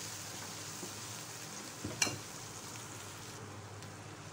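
Vegetables for veg pulao fry in a pan with a steady, moderate sizzle and a brief clatter of stirring near the middle, no voices.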